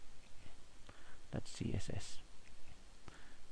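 Someone types a CSS filename on a computer keyboard, with a short cluster of sharp clicks in the middle and a few scattered lighter taps around it, set against a quiet room.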